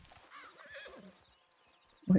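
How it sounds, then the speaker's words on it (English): A horse in Red Dead Redemption 2 whinnies clearly, a high wavering neigh, followed by quiet and then a sudden low thump at the end. "Where's my horse?"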